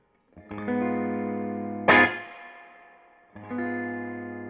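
Electric guitar played through a Supro Black Magick Reverb amp: sustained chords ring out, a sharp strummed hit leaves a reverb tail that decays, then the chord returns; clean, moderately loud, no talking.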